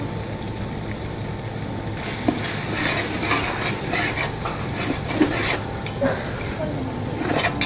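Yogurt, about 400 ml, is poured and stirred into a sizzling pan of frying masala for chicken biryani, a steady frying hiss with occasional soft scrapes and clinks of a spoon against the pot.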